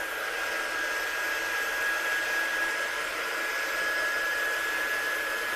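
A hair dryer blows on an alcohol ink craft piece, a constant loud airy hiss with a thin steady whine running unbroken from start to finish, no voices.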